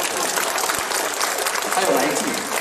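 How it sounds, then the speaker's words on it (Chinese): An audience at a Peking opera concert applauds, producing a dense, even wash of clapping that holds steady throughout at a fairly loud level. "掌声有请我们的总策划宋小川隆重的登台，他需要掌声。"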